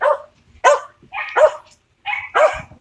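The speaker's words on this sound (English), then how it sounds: "we hear dogs barking" Several dogs bark outdoors on a cold New Year's Eve, loud and close in short bursts of two to three sharp woofs separated by brief pauses, with no talk over them.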